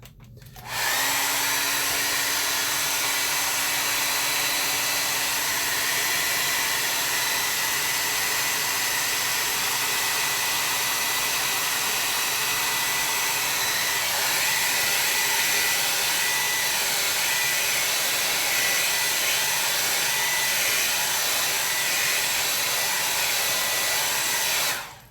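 A hair dryer blows close and loud over a gouache painting, a steady unbroken whirring hiss that runs for the whole stretch and stops at the end, with no voices.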